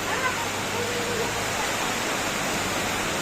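Strong floodwater current rushing after nonstop rain, a dense, steady roar of churning water that fills the whole stretch without pause, close and loud.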